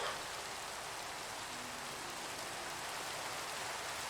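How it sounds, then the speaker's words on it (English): Steady rain in the video game Magicka, a continuous even hiss of falling drops throughout with no talking. "in the rain."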